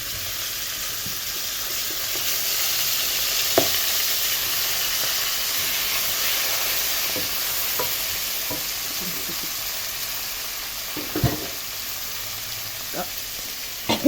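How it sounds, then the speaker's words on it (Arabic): Chicken frying in a pan over browned onions seasoned with black pepper, for kabsa: a steady, loud sizzling hiss throughout, broken by scattered clicks and scrapes of stirring, with no talking. "ادي البصلايه احمرت اهي، وهنزل بالفراخ."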